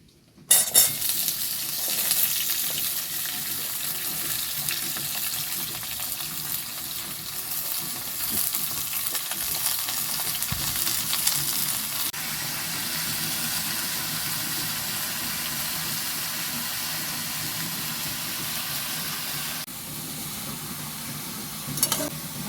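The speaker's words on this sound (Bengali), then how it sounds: "ভালো করে নেড়ে চেড়ে কষিয়ে নেব।" Chopped vegetables for Bengali panch mishali ghonto fry in a hot pan, giving a steady close sizzle with stirring scrapes and spoon-on-pan knocks throughout, and no talking.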